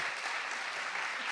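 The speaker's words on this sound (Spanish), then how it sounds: "reciban, por favor, con un fuerte aplauso" Applause from a church audience in Fuenlabrada welcoming a gardener to the stage, a steady dense wash of clapping with no speech over it for the whole short stretch.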